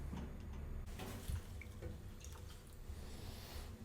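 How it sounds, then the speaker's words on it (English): A cup of water pours into an oatmeal-based apple stuffing mixture for stuffed baked apples, a soft steady splashing trickle with a few faint clinks close by. "I believe that this mixture does need another cup of water,"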